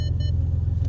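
A submerged, water-damaged Maserati drives off with a steady, close engine rumble throughout, deep and even, with a few faint electronic chime tones at the very start.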